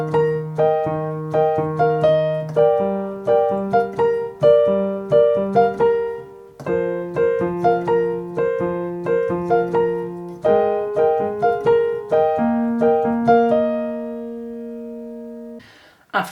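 Piano playing a song, sustained chords over low bass notes in a steady repeating progression that shifts register near the end, clear and close with no talking.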